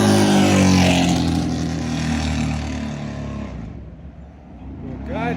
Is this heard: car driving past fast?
yes